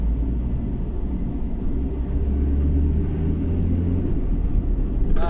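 A long queue of vehicles sits in storm traffic, with a steady low engine rumble close by that holds constant and then eases slightly near the end.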